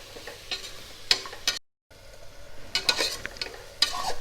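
Masala fries in ghee in a pan with a crackling sizzle and rapid scraping, clicking strokes of a spoon stirring. The sound breaks off briefly in the middle, then the stirring resumes.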